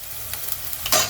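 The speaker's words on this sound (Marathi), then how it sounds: "आणि आता आपण भाजीला फोडणी देऊया।" Spices for a fish curry tempering in hot oil, a soft steady sizzle that flares into a louder, brief spatter near the end.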